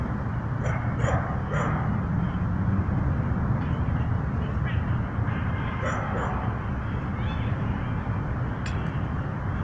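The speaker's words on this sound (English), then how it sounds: "I didn't know they can have dogs here." Faint, distant dog barks and yips come in a few short bursts over loud steady wind or traffic rumble at an outdoor retreat.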